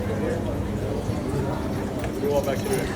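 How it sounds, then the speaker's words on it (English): Horse hooves clip-clop steadily along the historic cobblestone streets of Charleston. Carriage horses pass at a moderate distance, mixed with street ambience and voices in the background. "I always love to hear the sounds of the horses, the hooves echoing down the historic streets."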